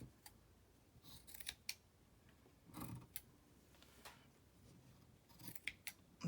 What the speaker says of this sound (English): These are my older fabric scissors.